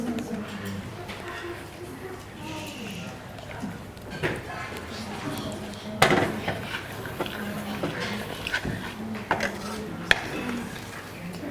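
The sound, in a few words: mixing carob powder and vanilla essence in a bowl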